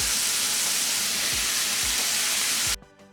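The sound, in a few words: shredded cabbage and onions sautéing in pan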